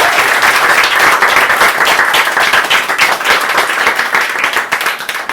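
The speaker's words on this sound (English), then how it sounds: "give her another round of applause" Loud, dense applause for a first-time performer at an open-mic reading night, many hands clapping close and steady throughout with no talk over it.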